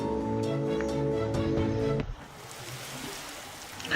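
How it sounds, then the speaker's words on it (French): Steady rain in the video game Graveyard Keeper: a broad, even hiss of falling drops that takes over once a musical passage cuts off halfway through, then continues alone at moderate level. "Il pleut"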